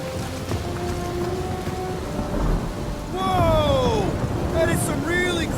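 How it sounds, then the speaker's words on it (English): Rain and rolling thunder of a stormy night in the Guardians of the Galaxy video game, a steady downpour swelling into a louder rumble partway through, with game music and other effects layered on top. "some really crazy lightning out there!"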